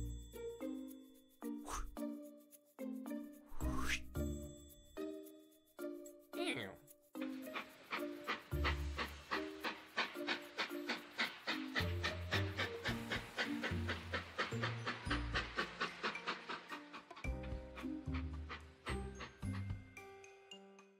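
A cartoon train chugs along in a children's animated show, with rhythmic puffing and hissing that speeds into a steady fast beat alongside cheerful music, while characters talk over it.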